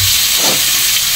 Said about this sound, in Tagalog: Ngayon, magigisa tayo ng bawang.